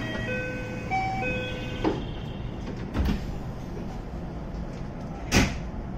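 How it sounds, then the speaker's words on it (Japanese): JR West 227 series train doors closing on the Kisei Line: a short electronic chime melody, then a few dull thuds as the doors shut, heard close over a steady low hum. "ドアが閉まります。"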